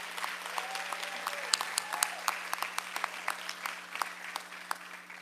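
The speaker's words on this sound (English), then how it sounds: "One more round of applause for all our great Teachers of the Year." A room full of people at a school board meeting applauds teachers of the year, a steady patter of many hands with some sharper individual claps standing out, over a faint electrical hum.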